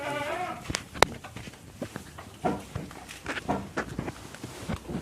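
Garut sheep at a livestock market, with bleating among many animals, shuffling footsteps and busy pen noise throughout, the calls close and overlapping.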